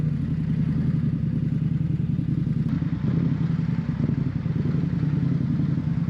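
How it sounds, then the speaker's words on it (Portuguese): An Indian Sport Scout Limited motorcycle rides through city traffic among cars, its mid-pitched engine running steadily and close throughout, with a faint clatter and a light thump partway through. "Como podem ver, a moto é super fácil de conduzir aqui no meio dos carros"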